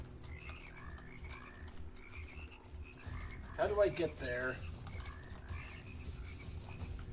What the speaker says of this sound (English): the frogs are clearly behind that wall